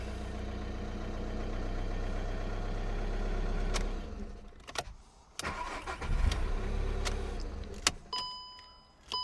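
A 2015 Skoda Rapid with a terminal X fault cranks, a steady low mechanical churn that holds for about four seconds, then breaks off into scattered clicks and clunks, recorded close with no talk.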